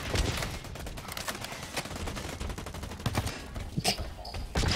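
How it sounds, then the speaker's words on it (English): Dense bursts of heavy assault rifle fire in a video game rattle rapidly and loudly throughout, mixed with other gunshots and battle noise, with no voices. "Heavy assault rifle."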